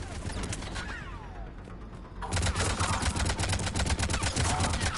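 Carnage weapon blasts hitting Cerberus turrets in Mass Effect Legendary Edition, a quiet stretch giving way to rapid, loud, repeated explosive bursts and crackling impacts that continue densely to the end.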